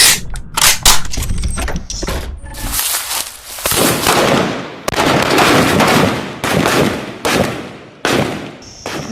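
Pistol shots fired with live rounds at an Indian Army firing range near the India-Pakistan border, a rapid series of loud, sharp cracks, some in quick bursts, with echoing tails between them.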